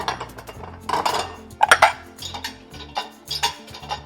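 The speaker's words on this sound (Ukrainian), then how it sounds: "Сюди можемо довантажити ось ці тарілки." Ceramic plates clink and knock as they are set into a dishwasher rack, several separate clattering placements close by.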